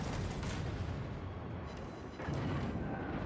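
Naval guns firing in the World of Warships video game, heavy booming artillery rumbling steadily with a fresh loud blast near the end, no voices.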